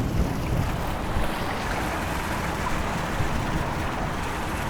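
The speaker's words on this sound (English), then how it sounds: "this is a fountain. You can't even really tell that this is all water running along the side here" Water runs steadily down the side of a downtown street fountain in Houston, a constant broadband rush at moderate level with no pauses and no voices.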